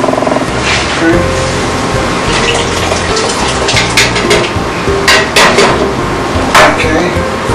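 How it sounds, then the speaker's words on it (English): Whole tomatoes for a marinara sauce are poured into a pot, splashing and gushing loudly up close, with a few sharp knocks against the metal as the liquid tumbles in. "Watch these, the whole tomato splash, so you're going to just be careful when you pour those in so they splash."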